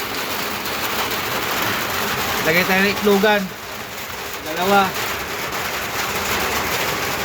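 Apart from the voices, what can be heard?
heavy rain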